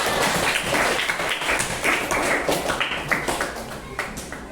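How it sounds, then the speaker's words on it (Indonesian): Applause from a class during a teaching session, dense overlapping claps filling the room for several seconds and tapering slightly toward the end. "Beri tepuk tangan."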